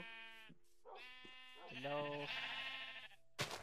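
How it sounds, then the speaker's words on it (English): Sheep bleating in Minecraft, a rainbow sheep among the flock, with several wavering bleats in quick succession at moderate loudness and a brief spoken word near the start. "Oh my gosh, good rainbow sheep."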